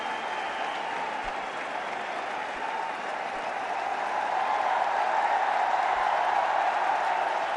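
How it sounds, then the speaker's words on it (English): A crowd and teammates at a one-day international cricket match between India and New Zealand in Delhi applaud a century with steady, sustained clapping at moderate distance, rising slightly toward the end. "And well applauded by the teammates."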